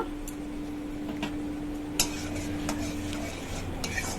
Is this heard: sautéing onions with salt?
yes